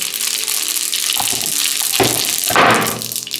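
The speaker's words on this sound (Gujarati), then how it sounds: "જીરું ફોડવા દઈ ત્યારબાદ તરત જ આપણે તલ નાખી દઈશું" Cumin seeds and sesame spluttering in hot oil in a pan, a loud close hiss with scattered crackles and a brief swell of sizzling near the end, with no talking.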